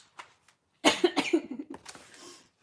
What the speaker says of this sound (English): Sorry, coughing at you